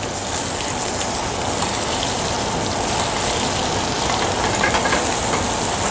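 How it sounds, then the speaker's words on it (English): Pork with butter sizzles in a sauté pan, a dense, steady hiss and crackle that stays fairly loud and even throughout with no talking. "Once the pork starts to caramelize, we're going to throw just a touch of butter in there."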